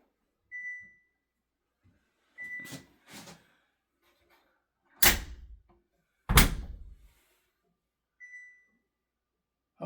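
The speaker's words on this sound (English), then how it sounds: "Close the door," The door of an LG DLHC5502V dryer shuts with two solid, close thunks a moment apart, with soft beeps from the machine and quiet handling noises in the gaps between them.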